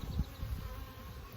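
Honeybees buzzing steadily and close during a cathedral hive inspection, a continuous droning hum with no voices.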